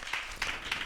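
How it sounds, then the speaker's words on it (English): A church congregation claps together in several short bursts of hand claps, fairly quiet and close, with a faint murmur of voices underneath. "Clap for Jesus."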